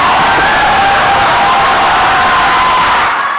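A large crowd cheers, whoops and applauds at an evening political rally. The roar is loud and steady for about three seconds before it starts to fade.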